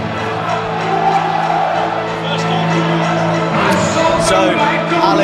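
Rugby crowd at a Cardiff University versus Cardiff Met match singing a song, a broad, sustained chorus of many voices filling the ground, with cheers and whoops rising near the end under a commentator's voice.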